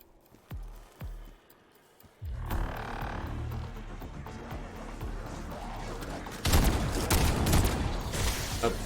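A burst pistol fires in a video game: a few sharp, spaced shots first, then a dense, sustained wash of in-game combat noise that grows louder toward the end.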